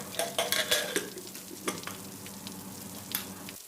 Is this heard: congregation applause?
no